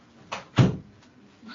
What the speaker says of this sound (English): I gotta like open the door